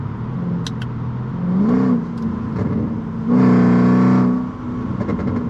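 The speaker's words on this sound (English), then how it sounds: "or you can open the valves" A Mercedes C55 AMG with Kleemann headers and valved mufflers, valves open, rumbles loudly up close, rising in pitch as it revs, then easing back to a steady, throaty drone.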